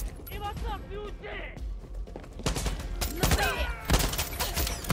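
Pistol shots fired in the video game Far Cry 6 ring out as a series of sharp bursts amid game noise, with someone talking over the gunfire throughout.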